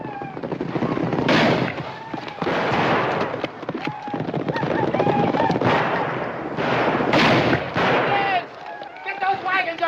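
Rifle gunfire rings out in a Wild West gunfight, with repeated sharp shots and bursts of firing mixed among shouting voices and commotion.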